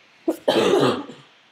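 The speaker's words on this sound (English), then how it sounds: "I'm getting over being a cold and just coughing a little bit still" A person recovering from a cold coughs: a short sharp cough followed by a longer, louder rasping one, close and alone.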